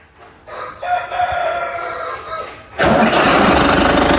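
A Belarus 952.2 tractor engine cranks and fires up, then settles into a loud, steady diesel idle close by, following a stretch of quieter background noise with faint crowing from a rooster.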